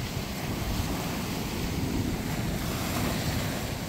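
Sea waves wash against a rocky shore along South Road in Bermuda, a dense continuous roar of surf heavily mixed with gusting wind buffeting the microphone.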